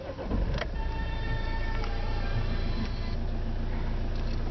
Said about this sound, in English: to turn on the car, just apply the clutch and turn.